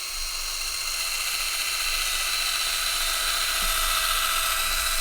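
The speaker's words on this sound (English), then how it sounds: "we're gonna drill a hole in this can and put our flag in it" A power drill whines steadily and loudly throughout as it bores a hole into a metal can, a continuous high-pitched grinding with no talk over it.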